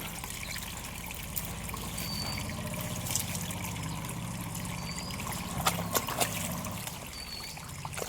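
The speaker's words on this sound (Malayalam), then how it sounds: "ഇതിൽ വെള്ളം ഒന്ന് കളയട്ടെ ഫുള്ളും." Water trickling and pouring steadily as a mushroom cultivation tank is drained, a continuous close stream with a few brief splashy bumps near the end and no talking.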